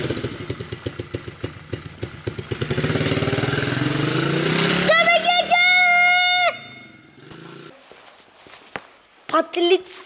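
A motorcycle engine idles and revs at close range, its steady throb shifting pitch, with people talking and brief higher tones over it.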